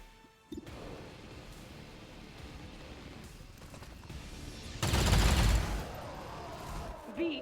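Gunfire in the tactical game XCOM 2 with the Long War of the Chosen mod: a sharp shot, then a steady low rumble before a dense, loud burst of rapid automatic fire lasting about a second, ending with a short final crack.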